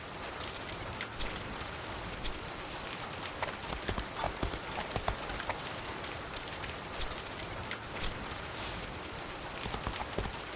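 Horse hooves clip-clopping at a gallop in the crafting game The Faraway Land, a steady rapid patter of hoofbeats with scattered sharper clicks over a constant background wash.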